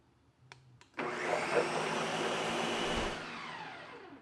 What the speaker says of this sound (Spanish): vamos a licuar alrededor de unos 2 o 3 minutos para que se forme espuma